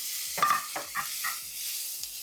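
Sage stirred into celery, onions and garlic frying in a pan, a steady soft sizzle with a few light stirring scrapes over about two seconds, close by and with no talking.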